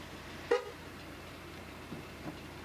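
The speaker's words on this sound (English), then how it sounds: "Can you honk the horn, sweetie?" A single short horn toot rings out at about half a second, fairly quiet against a low background hum, followed by faint scattered sounds.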